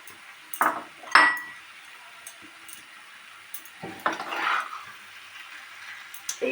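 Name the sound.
potatoes being stir-fried with spices in a pan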